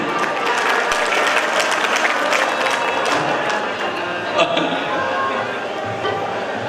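An audience at a Punjabi devotional singing performance in Mansa Khurd, Bathinda, claps in sustained, dense applause that fills the whole stretch, with voices talking over it.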